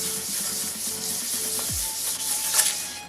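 Steady scratchy rubbing of sandpaper worked back and forth by hand on a Vespa scooter body, close and continuous, with no talking.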